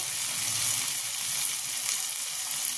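Turmeric and spices hit softened tomato and fried onion in a hot pan, producing a continuous bright sizzle, close and even throughout with no talking.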